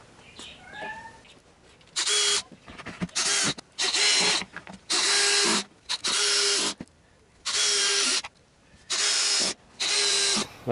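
A power drill drives Kreg pocket hole screws into wood for a van desk build, whirring in seven loud, close, steady bursts of about a second each, separated by brief pauses.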